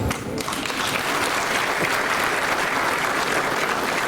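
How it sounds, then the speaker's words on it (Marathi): A crowd at an event in Ulwe Node honouring actor Ashok Saraf applauds loudly and continuously, a dense wash of clapping that holds steady throughout. "तुमच्या टाळ्या वाजल्या ना"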